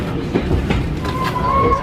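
A train rumbles and clatters steadily along the rails, with a thin squeal of wheels rising near the end and faint voices underneath.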